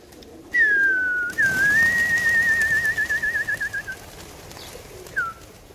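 Pigeons coo inside a pigeon loft: a clear, fairly close drawn-out call that swells into a rapid pulsing warble and fades, followed by a short separate coo, with no talk over it.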